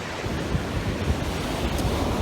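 Ocean surf on a beach in Havana, Cuba washes as a constant broadband roar, with wind buffeting the microphone and no clear break between waves.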